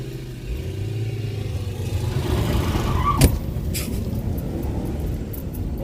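A BMW E39 540i car engine revs hard under acceleration toward the rev limiter, a loud steady mid-pitched drone close by, with a brief clatter partway through and no talking.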